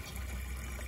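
A toilet tank refills with water after a flush, a faint, steady rushing hiss of water flowing in, heard on its own.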